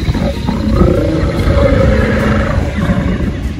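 An animatronic Carnotaurus dinosaur at Brookfield Zoo lets out a loud, continuous, deep rumbling roar that lasts several seconds, with no talking over it.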